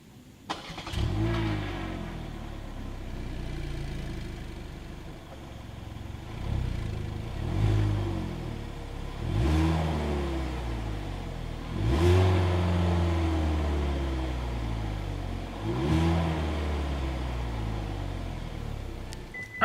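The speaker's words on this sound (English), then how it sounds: "As always, here is that exhaust clip." A 2022 Hyundai Elantra idles with a deep exhaust burble, then revs up repeatedly in several rising surges before settling back each time.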